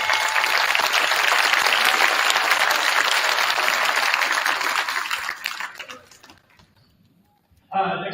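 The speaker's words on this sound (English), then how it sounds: "So one more round of applause for these guys." Audience at a school winter band concert applauds loudly and densely for about five seconds, then the clapping thins out and fades into near silence.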